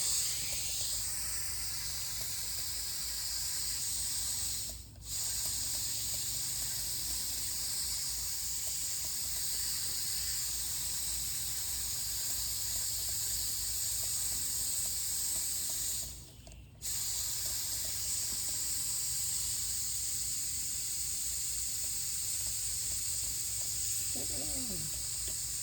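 A paint spray gun hisses in a steady, loud stream while spraying a 1986 Fox Body Mustang, broken only by two brief trigger releases.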